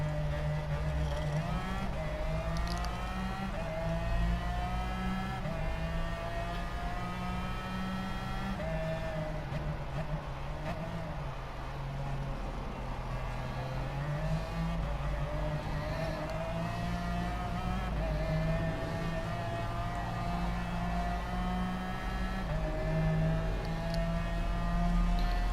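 Race cars competing in the video game Gran Turismo Sport, a continuous layered engine drone with rising and falling pitches from several cars running together, steady and loud without a break.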